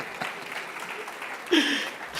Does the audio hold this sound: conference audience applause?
yes